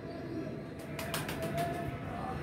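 A quick flurry of flapping wings bursts out midway as young pigeons are released, over a low, constant background hum, with faint bird sounds around it.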